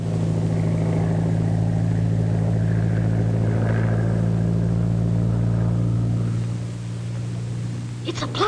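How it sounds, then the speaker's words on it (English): A plane flies overhead in a 1939 film soundtrack, a loud, steady engine drone with strong low humming tones that dips somewhat in level toward the end. "It's a plane."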